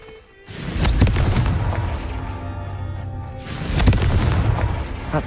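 Repeated Confringo fire-spell blasts erupt in Hogwarts Legacy, deep booming explosions with rumbling tails, a first burst near the start and a second swell later, loud and close.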